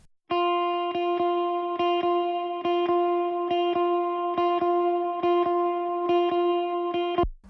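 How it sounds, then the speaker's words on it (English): A clean electric guitar through a Quad Cortex with a little reverb and delay picks a repeating, evenly spaced note pattern, bright and sustained, each strike ringing into the next, alone and loud until an abrupt stop. "So that's just a quad cortex guitar"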